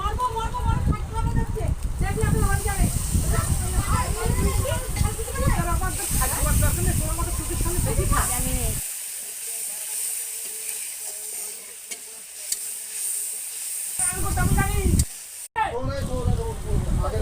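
Egg curry masala sautéing in a hot pan sizzles steadily while someone talks over it; the fry drops away partway through, then a short sizzle returns near the end as a little water goes in.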